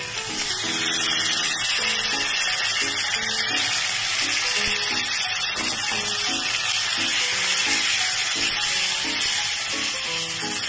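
Bay leaf, cinnamon, ginger and onion sizzling in hot oil for a potol shrimp curry, a loud steady crackling fry running throughout with a low rhythmic hum underneath and no talk.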